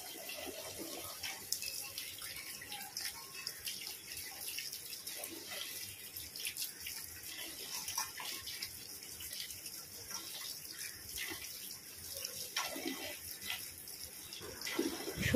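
Potatoes are washed under a running kitchen tap, a faint steady stream of water splashing continuously in the background, fairly quiet and without talk.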